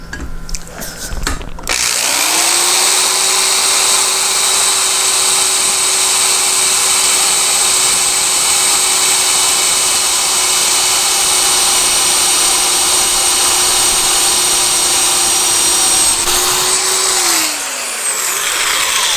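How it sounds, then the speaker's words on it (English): A power drill boring a 1/8-inch hole whines steadily at a constant high pitch for about fifteen seconds, then winds down; close and loud, with no talking. "I'm going to drill the first 1/8 inch hole"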